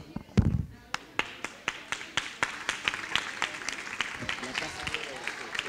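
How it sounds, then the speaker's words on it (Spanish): A group at a school environmental-project workshop claps together in a steady, evenly spaced rhythm of sharp, fairly close claps that builds slightly louder, with some voices murmuring underneath. "nos damos un aplauso"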